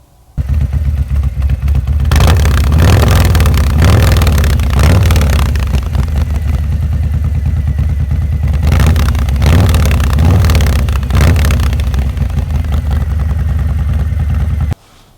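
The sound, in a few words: Harley touring motorcycle with aftermarket exhaust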